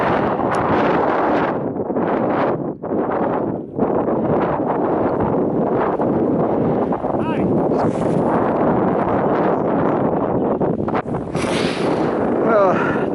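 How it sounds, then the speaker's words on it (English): Strong wind gusts buffet the microphone on the summit of Pikes Peak, a loud continuous roar with rumbling low-end that dips briefly in a few spots, with someone talking over it. "Wind is really starting to blow hard."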